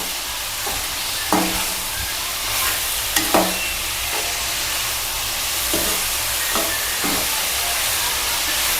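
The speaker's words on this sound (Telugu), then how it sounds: "కారం బాగా పట్టిదాకా ఇలా కలుపుకుంటే ముక్కలకు బాగా పడుద్ది కారం." Spicy cluster bean curry with chili powder sizzling in a frying pan while being stirred, a steady hiss of frying broken by several scraping spoon strokes against the pan at irregular intervals.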